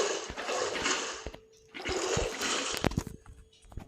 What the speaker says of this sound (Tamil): கிளிக் பண்ணாலே தண்ணி வந்துடும் பாருங்க.